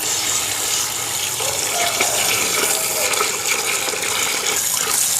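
Water poured into a potted aglaonema houseplant, a steady close splashing and trickling stream running without a break for the full stretch, with no voices.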